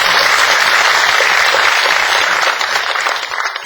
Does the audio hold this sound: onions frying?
no